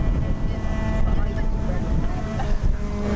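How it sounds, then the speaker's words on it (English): Wind buffets a microphone outdoors, a constant low rumbling roar that fills the whole stretch with no clear breaks. "It's windy."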